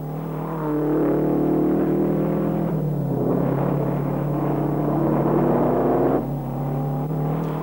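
Ferrari racing cars at the 1955 British Grand Prix, engines droning steadily at close range with a rising and falling whine as they run past, alone with no voices.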